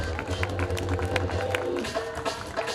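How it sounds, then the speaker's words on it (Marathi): Audience clapping at a community youth gathering during a timed ball game, steady scattered claps with crowd murmur under a voice speaking. "टाळ्या होऊन जाऊ द्या."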